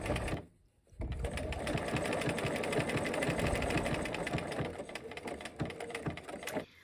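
A sewing machine stitches around heart-shaped fabric petals, running in a steady, fast mechanical whir at close range after a brief pause near the start, with no talking.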